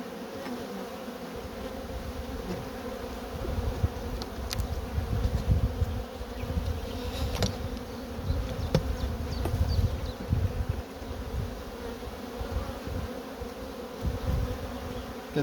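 Honeybees buzzing continuously in an opened hive during an inspection, a low steady hum close by with scattered louder passes and faint knocks of frames.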